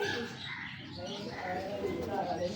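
Pigeons of the big-breeder Ferozpuri type coo continuously at close range, a soft steady murmur with faint chirps mixed in, while someone talks over them.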